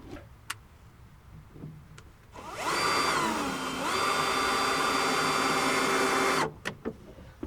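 A cordless drill or driver whirs into a screw in a cramped loft space, one steady burst of about four seconds with a pitch drop partway through, framed by a few sharp clicks.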